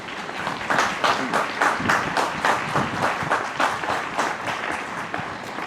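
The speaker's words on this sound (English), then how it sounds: "so we can give you a round of applause" Steady applause from a crowd at a Memorial Day ceremony, many hands clapping continuously at a fairly loud level, with some voices mixed in.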